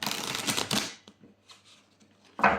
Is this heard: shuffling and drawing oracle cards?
yes